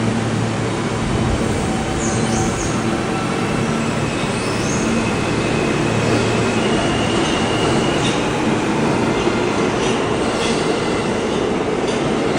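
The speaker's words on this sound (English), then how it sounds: "Wait, I let the train go by." A train rumbles past loudly and close by in New York City, with continuous heavy roar, rattling wheels and occasional high squeals from the rails.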